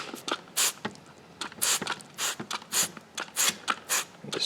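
Sharp, hissy bursts of a spray bottle of diluted Simple Green cleaner onto a Craftsman mulcher repeat in quick succession, about a dozen close-up squirts with short gaps between them.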